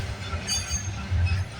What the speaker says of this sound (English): tell me what intermodal train we're catching